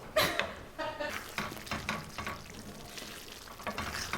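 Tomato ragù sauce being stirred in a pan, with wet spoon scrapes and soft bubbling in irregular strokes close by. A few louder clanks come early on.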